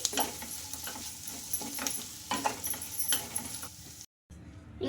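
Spoon stirring garam masala and coriander leaves into a pan of potato curry, a steady scraping and light sizzle with irregular clinks, close and moderately loud, dropping out briefly near the end.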